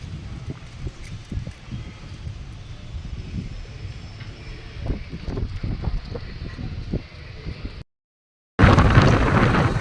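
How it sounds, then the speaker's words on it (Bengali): Strong wind on a rooftop at night buffets the microphone in a constant rushing roar with gusty thumps, a brief dropout, then a louder blast of wind noise. "এত হাওয়া ছাদেতে কি বলবো।"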